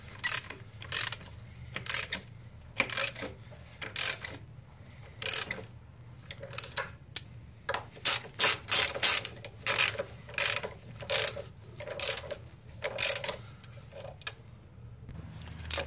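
Ratchet clicking in repeated bursts while tightening 15 mm bolts on a 2008 Mazda engine during gasket replacement, loud close rhythmic pawl ticks with short pauses between strokes over low shop hum.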